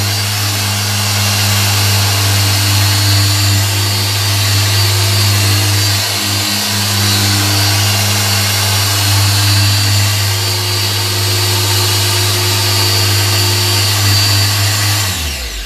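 A car polishing machine drones steadily and loudly, a constant low motor hum with a faint whirring buzz above it, running without pause.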